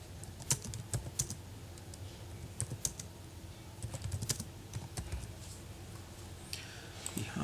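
Keys clatter on a computer keyboard as a PowerPoint presentation title is typed, a close, quiet run of irregular clicks with brief pauses between bursts.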